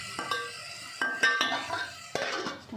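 A spoon stirs salt into a cooking pan, with a few sharp metallic clinks and scrapes against the pan spaced about a second apart, close and moderately loud.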